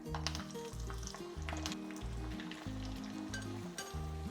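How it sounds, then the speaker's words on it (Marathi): Hara bhara kababs fry in hot oil in a pan, a soft continuous sizzle and crackle heard close up and fairly quiet, with faint musical tones underneath and no talking. "आपण हे एकदा उलटे फक्त करून थोडेसे तळून घेऊयात"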